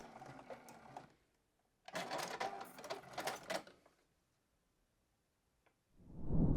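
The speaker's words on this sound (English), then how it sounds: "I'm just going to go forward a little bit, and then I'm going to back stitch" Sewing machine stitching a fabric corner bookmark seam, running forward then back-stitching, heard as two short bursts of mechanical whirring separated by a pause, fairly close and not loud.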